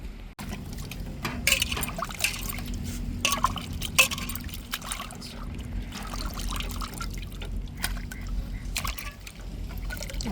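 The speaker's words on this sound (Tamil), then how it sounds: "இப்போ நல்லா அலசியாச்சு" Squid being rinsed under running water, with a steady splashing trickle and intermittent drips and sloshes close by throughout, and no talking.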